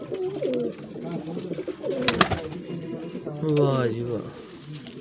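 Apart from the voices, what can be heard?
pigeon cooing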